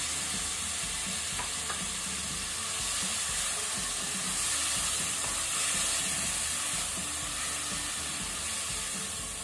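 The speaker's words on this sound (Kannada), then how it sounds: "ಈಗ ಇದನ್ನು ಮೀಡಿಯಂ ಹೀಟ್ ಅಲ್ಲಿ ಲೈಟ್ ಬ್ರೌನ್ ಆಗೋ ತನಕ ನಾವು ಫ್ರೈ ಮಾಡಬೇಕು ಈರುಳ್ಳಿಯನ್ನು" Grated onion frying over medium heat in a pan with cumin seeds gives a steady, close sizzle with soft stirring scrapes throughout, no voices.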